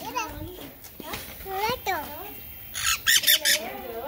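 A pet parakeet squawks in short, sharp bursts close by, several harsh calls mixed in among a child's and adult's voices talking in a home.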